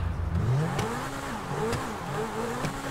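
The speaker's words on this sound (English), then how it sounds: "we're gonna give us a little rev" A Lamborghini Reventón revs in GTA 5, its engine note climbing and falling in several rising sweeps over a steady low rumble, loud and close, with no talk.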